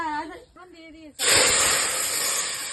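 Hot oil is poured into a chicken curry and bursts into a loud, sustained sizzling hiss right after a short spoken phrase.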